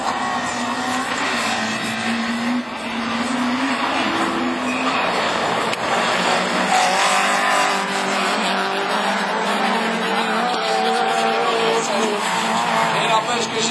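Division 4 rallycross cars race on dirt at Châteauroux, among them an orange rear-wheel-drive Honda, with loud revving engines and skidding, squealing tyres under steady commentary.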